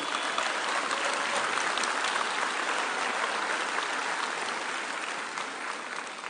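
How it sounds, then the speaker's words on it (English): Sustained applause from a large audience at a spring commencement ceremony, honoring the event staff, steady and full for several seconds with no voices over it. "Let's give them a round of applause and appreciation."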